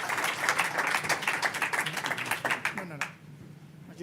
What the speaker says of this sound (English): please give a big hand of applause to all of the people here